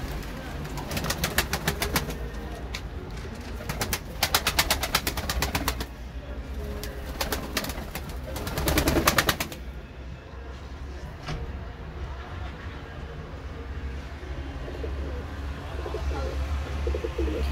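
Pigeons coo softly nearby on a balcony amid rustling and scattered clicks, with low background hum and occasional movement sounds.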